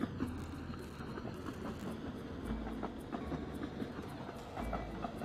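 A train runs steadily in the video game Train Valley 2, a continuous rumble with rhythmic clickety-clack wheel beats over the rails, fairly quiet and heard alone without talk.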